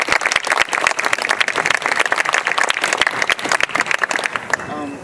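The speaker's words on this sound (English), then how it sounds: "I do want to start off by giving them a round of applause" An audience at a rally in support of undocumented students at Dominican University claps steadily and loudly, with dense, close applause filling five seconds and easing at the end.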